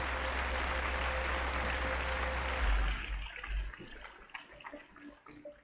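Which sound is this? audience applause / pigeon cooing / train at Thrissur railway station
audience applause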